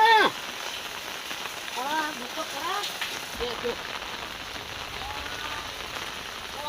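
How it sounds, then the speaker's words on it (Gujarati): Heavy rain pours onto a flat terrace rooftop, a steady dense hiss that runs the whole time while someone talks over it. "જોવા તો ખરા વરસાદ કેટલો પડે છે"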